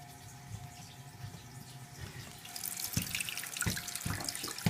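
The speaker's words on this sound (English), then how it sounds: "Okay, now we're going to turn the water on." Water rushes into a toilet tank after the supply is turned on during a toilet installation in an old bathroom, a steady hissing flow that builds louder and splashier partway through, with a few knocks and drips.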